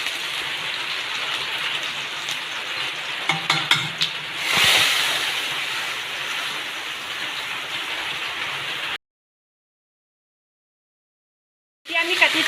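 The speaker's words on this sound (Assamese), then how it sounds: "এতিয়া আমি নহৰু আৰু আদা থেতুলিছোঁ সেইটো দি দিছোঁ" Garlic and ginger paste sizzling in hot oil in a wok while cooking papaya ghugni: a steady, bright frying hiss with a few stirring scrapes, then silence and a brief return of sizzling.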